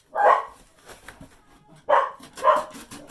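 Dog barking indoors, three loud close barks, one at the start and two in quick succession near the end, separated by quieter rustling.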